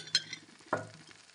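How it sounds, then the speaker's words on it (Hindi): Tomatoes being stirred into fried garlic, ginger and onion in a pan, giving two short scraping strokes over a soft background sizzle. "अब मैं इसमें डालूंगी टमाटर और फिर इसको अच्छे से मिक्स करेंगे"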